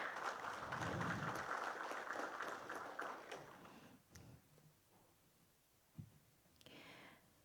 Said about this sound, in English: can I ask that we give another round of applause